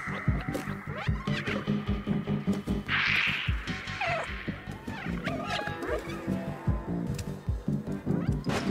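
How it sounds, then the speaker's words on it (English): Cat meows from the video game Stray, a few short cries mixed into busy game sounds, with one brighter, louder call standing out near the middle over steady background noise and effects. "Run over here while meowing"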